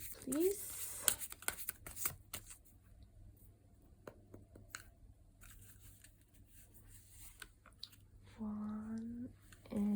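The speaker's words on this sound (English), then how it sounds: "I'm going to pull 2 more tarot cards" Tarot cards are shuffled and pulled from the deck up close, with scattered soft riffles, taps and slides between quiet gaps, and a voice talks briefly at the end.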